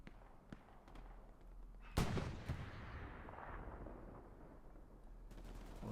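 Artillery fire in the World War II shooter Hell Let Loose lands as one heavy, booming blast that rolls off into a long rumble, with fainter distant gunfire cracks scattered before and after.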